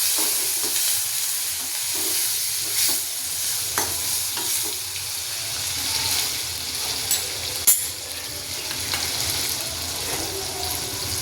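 Tomatoes, chillies and curry leaves stirred and fried in a pan for a potato sukhi bhaji, with steady sizzling and scraping spoon strokes throughout, close and fairly loud, no talking.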